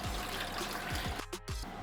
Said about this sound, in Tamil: ஒரு பவுலில் 300 ml அளவு தண்ணி சேர்த்துக்கிறேன்